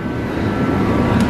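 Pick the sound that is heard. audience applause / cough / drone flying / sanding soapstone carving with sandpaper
drone flying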